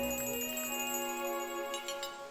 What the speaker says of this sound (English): I'm not sure why her hammer tinkles like a bell